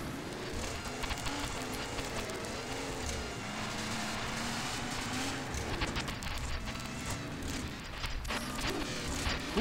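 An off-road car engine racing in the video game CRC 2005, a continuous droning growl that rises and falls in pitch with gear changes, heard alone at moderate level.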